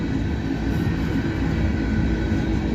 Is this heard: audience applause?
no